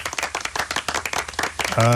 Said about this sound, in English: Round of applause for Craig, please, Keith.